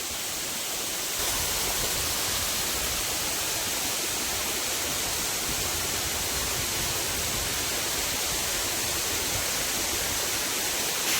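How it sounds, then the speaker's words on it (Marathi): A stream in Sanjay Gandhi National Park flows without a break, giving a steady broadband rush of water that is close and unchanging and that sounds alone. "बघा पाणी कसं वाहत आहे बघा"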